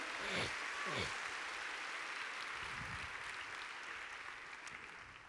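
Audience clapping at a congress of pastors and pastors' wives, a broad steady wash of applause at moderate distance that holds throughout and slowly thins toward the end, with a few indistinct voice fragments mixed in.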